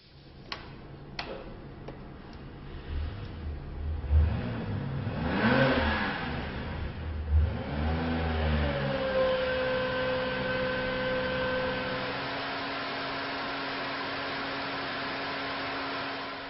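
A RUF car engine running on a dynamometer in a dyno room, starting with a few sharp ticks, then rising and falling revs that sweep up and down before settling into a steady sustained drone.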